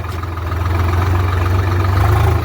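A tractor engine idles close by, a loud, steady low throb with a pulsing rumble that continues without a break.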